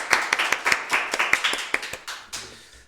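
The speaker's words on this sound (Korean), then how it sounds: "하나님께 영광의 박수를 드리겠습니다" Congregation in a church at a New Year thanksgiving Sunday service claps together in a loud, rhythmic burst of about a dozen sharp hand claps, slowing and fading toward the end.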